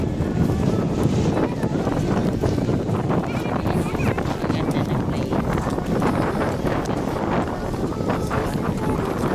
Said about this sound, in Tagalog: Grabe ang hangin o.